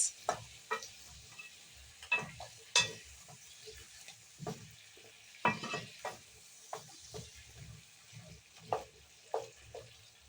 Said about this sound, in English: we're going to stir them till they are well combined